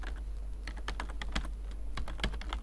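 Steady keyboard typing as a workbook name is entered on a computer, a run of close, quick key clicks over a constant low hum, with no talking.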